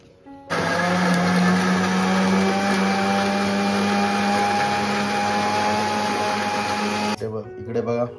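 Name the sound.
mixer grinder blending mint and lemon sherbet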